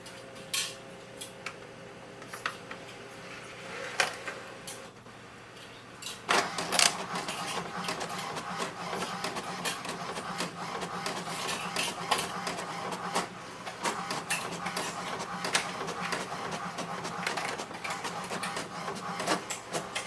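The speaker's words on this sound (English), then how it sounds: "Automatically it will take the pages and copy all of them one by one." An HP DeskJet 4220e inkjet printer whirs and clatters as it feeds and copies pages, starting quiet then growing busier with steady mechanical clicks and rattles, no talking.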